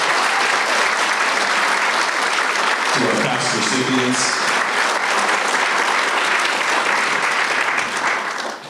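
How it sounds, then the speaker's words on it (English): A round of applause for past award recipients at a civic State of the Cities event fills the room, starting under a speaker's closing words and continuing as broad, steady clapping from a large audience before tapering at the end. "Please, a wonderful round of applause"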